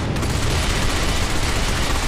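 A continuous, loud burst of rapid gunfire in the video game Binary Domain, aimed at incoming missiles, with no break across the short stretch.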